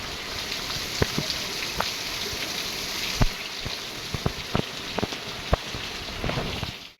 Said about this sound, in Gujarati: જો વરસાદનું કેવું બેઠું છે એકદમ